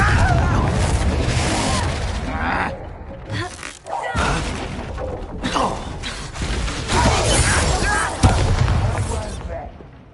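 A Confringo fire spell from the Hogwarts Legacy video game goes off amid a chaotic battle, with repeated booming blasts, crashes and mechanical rumbles layered over shouted voices and combat noise.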